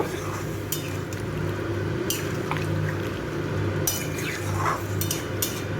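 Water is poured into a pot of sola kochu and stirred, with soft liquid sloshing and scattered metallic clinks of a spoon against the pot over a low background hum.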